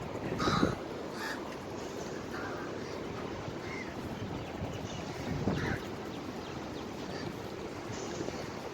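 A few harsh caws from a bird ring out over a steady outdoor wash of flowing water, spaced apart and moderately distant.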